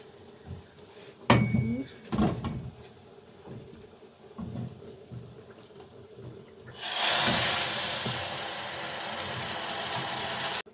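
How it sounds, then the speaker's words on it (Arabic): Broth poured into a pot of orzo pasta, a loud steady rushing hiss of liquid starting partway through, preceded by scattered clinks and knocks of kitchenware. "هزود بقى الشوربه اهي"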